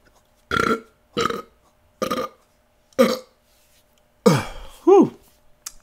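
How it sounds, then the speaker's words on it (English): A series of six short, loud belches, close up, separated by brief silences, the last two longer and more drawn out. "Okay, sorry about the burp."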